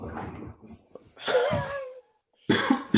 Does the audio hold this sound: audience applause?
no